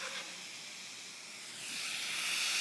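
Pineapple pieces dropped into a hot pan give a steady, close hiss that swells and brightens partway through and keeps sizzling to the end.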